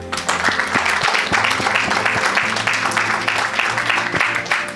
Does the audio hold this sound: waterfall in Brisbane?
no